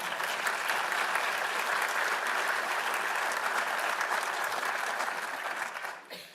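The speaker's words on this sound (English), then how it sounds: "Please give her a round of applause for that." A seated crowd gives steady, dense applause at a talk, the clapping holding full and even for about six seconds before tapering off sharply at the end.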